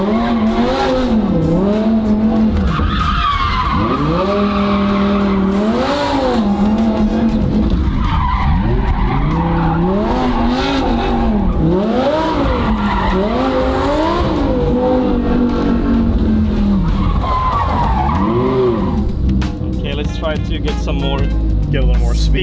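Lamborghini drift car sliding with tires squealing in long, wavering screeches over a loud engine that revs up and down, close and continuous, while people talk over it.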